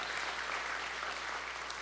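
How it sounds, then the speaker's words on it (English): A crowd applauds steadily at a public hearing on TVA's energy plan, a dense, even patter of many hands that holds at the same level from start to finish with no talk. "a round of applause, everybody"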